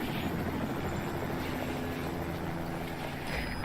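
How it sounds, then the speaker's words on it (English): Steady whirring rotor drone of a helicopter in a video game, continuous and moderately loud, with a low rumbling hum throughout and no voices. "Helicopter."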